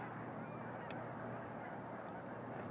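A dense, distant chorus of thousands of honking snow geese beside a lake, many calls overlapping into a steady, faint clamor.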